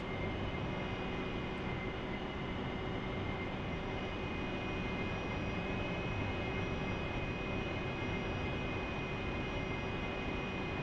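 Steady, even drone of jet engines during air-to-air refueling between an AV-8B Harrier and a tanker aircraft in the DCS flight simulator. The sound is continuous and unvarying, a moderately quiet hum with no voices.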